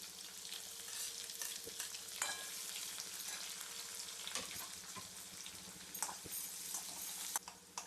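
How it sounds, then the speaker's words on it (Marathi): Onions fry steadily in hot oil with cumin, garlic and chilli, a dense continuous sizzle with occasional clicks and stirring scrapes, close and fairly loud. "कांदे चांगले भाजून घेऊ."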